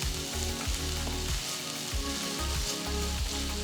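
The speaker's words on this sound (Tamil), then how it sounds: "அப்புறம் 1 வெங்காயம் பொடியாக நறுக்கினது சேர்த்து வதக்குங்க" Garlic, ginger, chopped green chili and onion sizzle steadily in hot oil, a dense continuous frying hiss with faint stirring scrapes, close and alone without talk.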